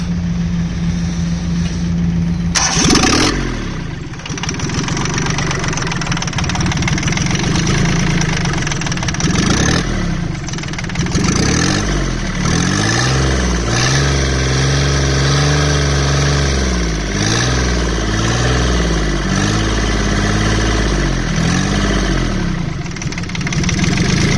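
A Perkins 103-10 diesel engine in a Cushman Truckster cranks over and catches, then settles into a loud, steady, slightly knocking idle that rises and falls in pitch as the throttle is adjusted nearby.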